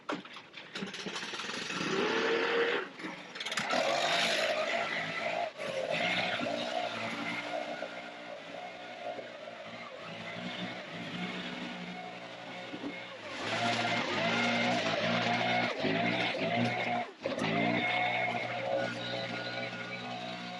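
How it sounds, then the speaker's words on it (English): A leaf blower clears leaves and debris out of a shut-down garden water feature stream, its motor droning steadily for twenty seconds with pitch rising and falling as the throttle changes, close and loud, with some speech underneath. "use our leaf blower to blow them out"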